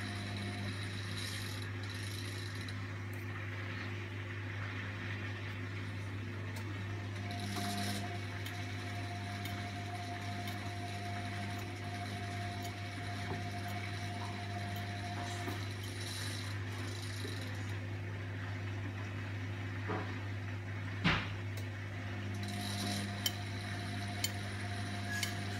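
A Hotpoint Ultima Extra WMA64S washing machine turns its drum slowly to distribute the load before spinning, giving a low, steady motor hum with faint knocks and shifting sounds, quiet throughout.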